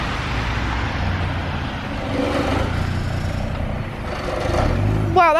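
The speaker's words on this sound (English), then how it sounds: "the obviously massive noise upgrade that we're gonna have on Harry's Mini Cooper" A Mini Cooper fitted with a loud custom exhaust idles and revs, a rough, rattly engine drone holding steady with a swell in the middle and a sharper rise near the end.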